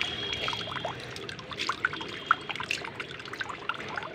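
Grapes being washed under a faint stream of running water, with soft trickling and small uneven splashes and drips close by.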